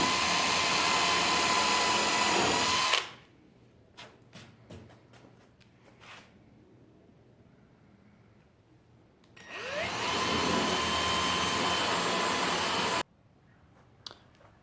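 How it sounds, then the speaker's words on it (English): Power drill boring holes through a wooden tenon for a farmhouse table, two sustained loud bursts of steady whining drive with a quiet pause between them, ending in brief clicks. "Make sure when you drill these holes that you hold the drill nice and perpendicular to your"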